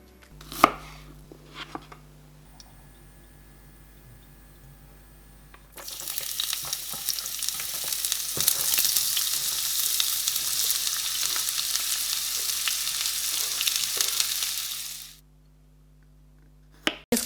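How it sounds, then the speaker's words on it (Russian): A medium onion is finely chopped with a knife, the quick taps heard near and faint, then it hits a well-heated pan and a loud, steady sizzle of frying rises and holds before cutting off abruptly. "Одну луковицу среднего размера нарезаем мелко ножом и отправляем на хорошо разогретую сковородку"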